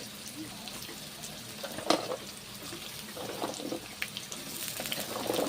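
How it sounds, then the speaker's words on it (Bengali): Ridge gourd frying in hot oil gives a faint, steady sizzle with soft bubbling and occasional clinks from the pan, fairly quiet and without speech. "এখন ঝিঙেগুলো ভেজে নিচ্ছি"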